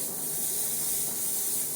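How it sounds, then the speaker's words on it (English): Carpet cleaning pre-spray is sprayed onto a dirty, worn rental carpet, a steady close hiss running unbroken with no talk. "And he's putting down the pre-spray"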